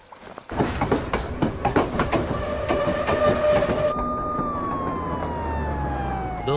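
A passenger train rumbles and clatters loudly past, wheels clicking rhythmically, followed by a long sustained horn-like tone fading as it moves on.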